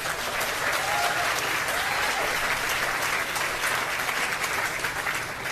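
Crowd at an outdoor hospital groundbreaking ceremony in Mississauga, Ontario claps steadily and evenly, a dense wash of applause sustained throughout without speech.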